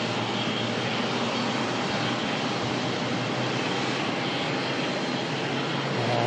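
A Qatar Airways airliner passes at Melbourne Airport, producing a loud, continuous broadband jet roar that holds steady throughout without pause.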